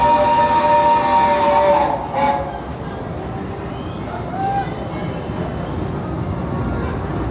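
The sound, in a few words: Hogwarts Express train ride at Universal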